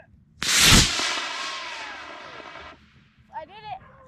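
A model rocket launched outdoors on Christmas fires off with a sudden loud roaring whoosh that quickly fades over about two seconds as it climbs away, followed by a brief faint voice afterward.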